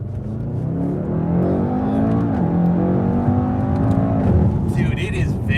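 A 2020 Mercedes-AMG E63 S Wagon with its V8 in Sport Plus accelerating hard on a straight road, its engine note rising and dipping through a shift inside the cabin while people talk over it.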